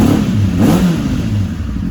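A Kawasaki ZX-400R motorcycle engine, running on just enough fuel, fires up close by and revs in loud, rough swells with some mechanical clatter.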